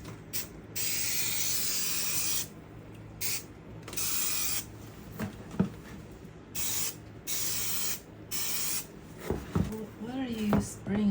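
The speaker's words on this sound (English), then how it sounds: "What are you spraying onto? Glue? This is contact cement." Bursts of aerosol spray from a can of contact cement, several hissing blasts of a second or two each, separated by pauses, with someone talking in between and some handling clatter near the end.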